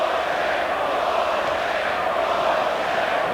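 Boxing arena crowd chanting in unison during a John Ruiz versus Oquendo fight, a loud steady roar of massed voices filling the whole span without a break.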